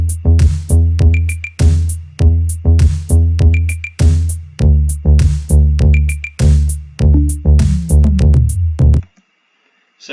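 Synth bass line programmed in Soundtrap for an EDM track: a loud, punchy repeating riff of short notes that plays one pattern twice, shifts pitch, repeats, then stops abruptly near the end.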